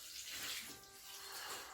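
Water pours steadily into a homemade worm bin, a continuous close splashing rush with a hissy, bright texture that swells and eases over a couple of seconds.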